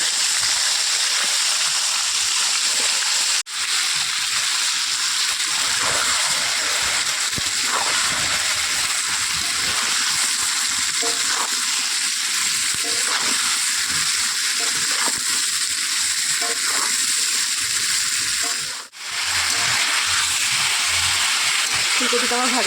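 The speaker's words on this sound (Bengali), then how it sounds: "এবার আমি ভেজে নেব" Cauliflower florets frying in oil seasoned with salt and turmeric give a steady, close hiss and sizzle with soft spattering, continuing unbroken with no talk.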